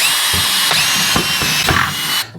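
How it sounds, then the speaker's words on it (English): Power drill boring a few short bursts of holes into a DIY kayak crate, loud and close, with bright whining pulses separated by brief pauses and no talk. "So all we got to do is drill some holes, drill, do probably 2 or 3"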